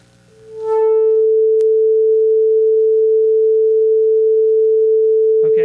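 A steady pure 440 Hz tone holds at a constant pitch for several seconds, loud and unwavering after a brief fade-in, alone without other sounds.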